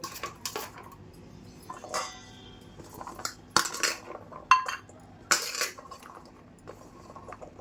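Steel bowls and cups clink and clatter while pieces are measured out cup by cup for a pickle, giving sharp scattered metallic knocks and rattles over a quiet background with no talking.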